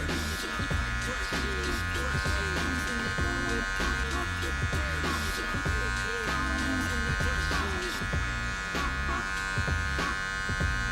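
Electric hair clippers buzz steadily while cutting hair for a bald fade in a barbershop, a close, constant motor whine with small textured shifts as the blades move through the hair, with faint talk in the background.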